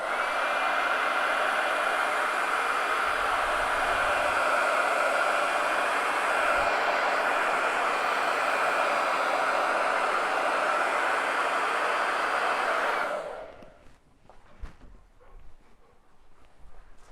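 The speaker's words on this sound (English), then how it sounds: "So I'm going to turn on my hairdryer" A hair dryer blows with a loud, steady, close whooshing hiss for about thirteen seconds, then switches off, leaving faint room sounds and a few light knocks.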